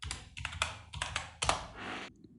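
Keys clack on a computer keyboard in a short burst of separate taps, close and crisp, with a brief pause near the end and no voice over them.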